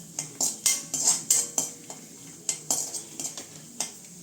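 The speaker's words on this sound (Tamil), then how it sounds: "இந்த அரைச்ச பொரியை அரைச்சி கைவிடாமல் கொஞ்சம் நேரம் கிளறிக்கிட்டே இருக்கலாம்" Ground puffed rice (pori) stirred in a pan with cashews for halwa, a run of quick metallic scrapes and clinks of a spoon against the pan, close, with a faint sizzle underneath and no talking.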